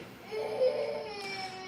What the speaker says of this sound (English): If you hear babies crying in the background